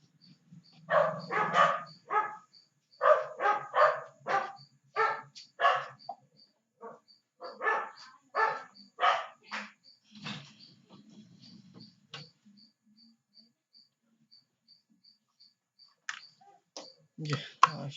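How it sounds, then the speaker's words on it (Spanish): Several dogs barking in repeated loud bursts, sharp and close, clustered in rapid volleys with pauses between, then a long quiet stretch before a final burst; a faint steady ticking runs throughout. "Ay, que ladran mucho estos animales"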